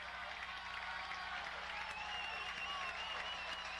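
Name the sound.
Lycoming football crowd cheering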